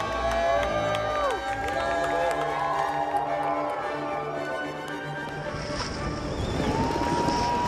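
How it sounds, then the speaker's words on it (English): Crowd cheering and shouting at a Fieberbrunn ski race in Austria, a continuous roar of many voices with whoops rising over it, sustained throughout. "you just love to hear the crowd going crazy"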